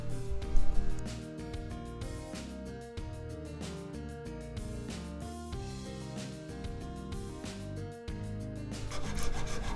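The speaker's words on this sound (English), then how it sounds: "we can fine-tune the nut with the files" Files work the nut slots of a custom electric guitar during setup, a steady rasping rub repeated in short strokes, close and alone with no talk.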